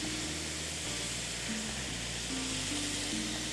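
A spoonful of minced garlic fries in oil in a pan, giving a steady, fairly quiet crackling sizzle throughout with a low hum underneath.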